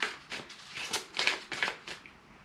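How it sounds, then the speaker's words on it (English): Tarot cards being shuffled by hand, a series of soft papery riffling bursts in an uneven rhythm, close and fairly quiet with no talking. "Continuing to shuffle now."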